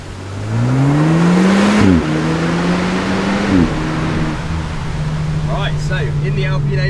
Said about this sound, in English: Let's take this thing for a drive